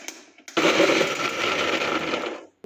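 Electric blender grinding onion and tomato into a gravy, a loud close motor roar that starts abruptly after a soft knock and runs for about two seconds before cutting off.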